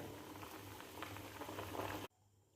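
Mackerel curry with kudampuli and coconut milk simmers in a pot, giving a steady soft bubbling hiss for about two seconds before cutting off abruptly, close and quiet with no talk.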